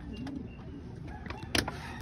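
Pigeons in a cage fitted with a trapdoor give low, soft coos that repeat steadily at a moderate distance. A single sharp click cuts in near the end.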